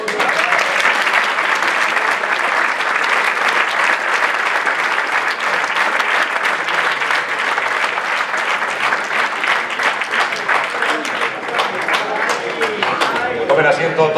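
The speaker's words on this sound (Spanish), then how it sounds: "Y que suene el aplauso en la foto." Sustained audience applause at an award ceremony (Pantortilla de Oro and Flor de Nieve 2024) during a group photo with the honorees, dense steady clapping filling the whole stretch at a fairly loud, even level.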